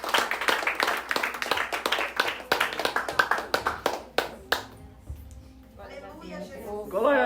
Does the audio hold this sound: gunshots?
no